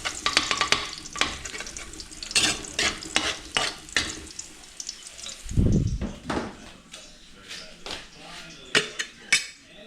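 Squid adobo being stirred and fried in a pan, with repeated metal utensil scrapes and clinks against the pan over a steady sizzle, close and fairly loud.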